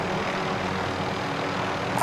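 Helicopter in Call of Duty: Modern Warfare: a steady, dense droning engine and rotor rumble holding at even loudness for two seconds, close and continuous with no talk over it.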